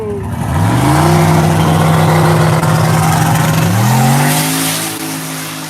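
Drag race car Demonology, turbocharged, spins its tires on the strip at a Yello Belly grudge race: a loud, close, sustained engine howl that holds steady, then climbs in pitch near the end.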